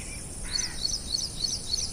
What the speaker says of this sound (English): Soon there was the sound of wild fowl, singing and chirping.